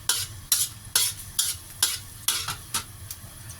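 Chopped garlic fries in a wok on the stove, stirred in a quick regular rhythm of scraping strokes over a constant sizzle, close by with no talking, for a minced fish and long bean stir-fry.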